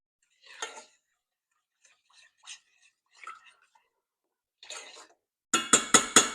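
A spoon stirs candied jalapeño peppers in a pot, giving a few faint scattered scrapes and clinks, then a quick run of four sharp, loud clacks at the end.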